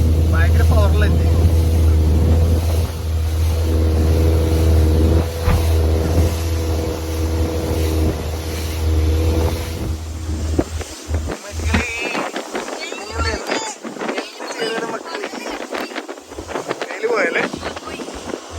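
A heavy, powerful speedboat engine drones loudly and steadily for about ten seconds off Phuket, Thailand, then the engine drops away, leaving wind buffeting the microphone while people talk.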